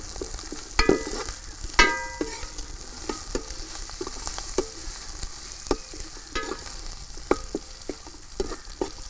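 Chopped long and thick green chillies crackle in hot oil for a Kerala-style prawn roast, a constant close sizzle broken by sharp spatula scrapes and taps against the pan, with no voices.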